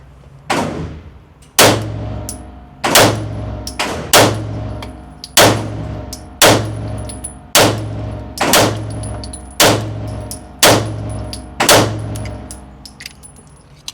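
A MAC 9 DS Comp 2011 pistol fires about ten loud, sharp shots in a steady, evenly spaced string at an outdoor range, each crack followed by a brief ringing decay, with no talking.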